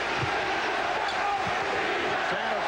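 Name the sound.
basketball arena crowd chanting defense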